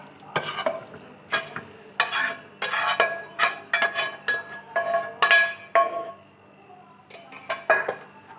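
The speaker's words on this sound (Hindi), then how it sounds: "अब हम इसके अंदर डालेंगे ये मिक्सचर जो हम लोगों ने रेडी किया था" A prepared mixture poured into a pan for homemade creamy white sauce pasta and stirred, with repeated close scraping strokes of a spoon against the metal pan in an irregular rhythm amid gentle sizzling.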